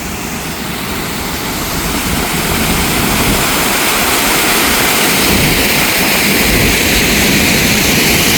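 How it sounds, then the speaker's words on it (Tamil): Rushing water at the Chithirai Chavadi check dam near Coimbatore, a loud, continuous broadband roar that swells slightly and holds steady throughout, with no voices. "உங்களுக்கு தண்ணி சவுண்ட் மட்டும் ஒரு செகண்ட் வந்து காட்டுறேன்"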